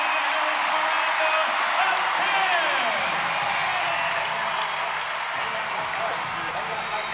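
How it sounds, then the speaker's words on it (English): Gymnastics arena crowd at a Kentucky at Florida meet erupting after a perfect 10 on beam, a dense, sustained roar of cheering and applause with a commentator talking over it. "Listen to this crowd."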